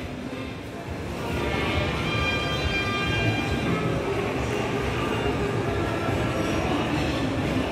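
A ride-on train rumbling along with rattling wheels and faint squeals, steady and fairly close against a busy indoor background at Sunway Pyramid mall.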